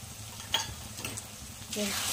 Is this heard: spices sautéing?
yes